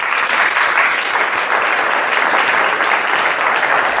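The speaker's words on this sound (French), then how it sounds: "on applaudit Hilbert" A conference audience in Ittre, Belgium applauds with loud, dense, continuous clapping that holds steady throughout without pause.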